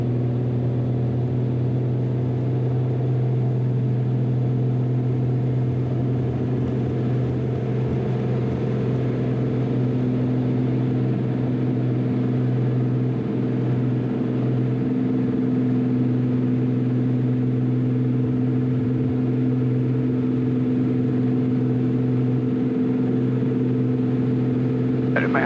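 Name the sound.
Cessna 400 aircraft engine at full power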